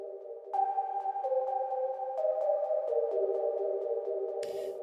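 Omnisphere synth lead preset Whistler's Bells plays a bright, bell-like melody of sustained, gently stepping notes with soft attacks, ending in a brief noisy burst.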